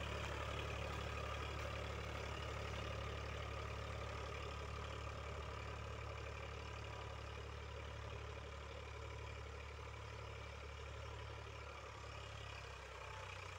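An Eicher 551 tractor with a side-shift gearbox runs with an 11-tine tiller attached, a loud, steady diesel drone with a deep constant throb close by for the whole stretch, with no talking.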